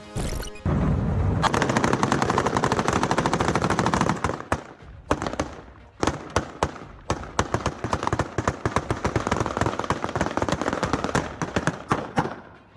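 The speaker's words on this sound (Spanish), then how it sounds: "alertó del disparo de armas semiautomáticas en las calles del municipio de Celaya" A street shootout in Celaya erupts with semi-automatic weapons, loud and sustained. Dense bursts of gunfire crackle almost nonstop, briefly thin out, then resume as rapid repeated shots.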